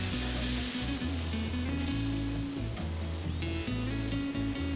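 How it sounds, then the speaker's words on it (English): Lamb sizzling on a barbecue, a steady close-up crackle and hiss that holds throughout with no talk, under a constant background tone of strong low harmonic hum. "now we'll cook the lamb. Cook on one side for 5 minutes before turning"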